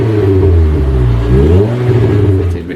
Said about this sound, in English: one of the other enhancements we've done to the vehicle is the catback exhaust system